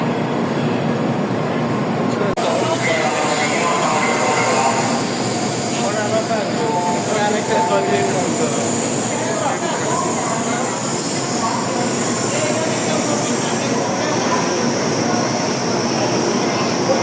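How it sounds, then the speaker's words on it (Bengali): A 16-car Japanese bullet train running at speeds of up to 400 km/h produces a loud, unbroken rushing roar that fills the whole stretch without letting up. "এটা হচ্ছে বুলেট ট্রেন, আমরা যাচ্ছি"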